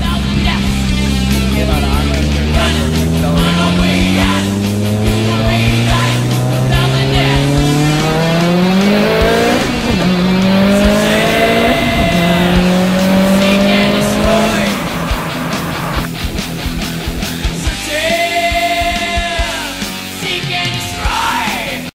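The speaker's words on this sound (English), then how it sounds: "go back onto the highway, do another pull" A tuned car with a fresh AEM install accelerating hard on a highway: loud engine revs climbing repeatedly through several gear shifts, close and continuous, easing off toward the end.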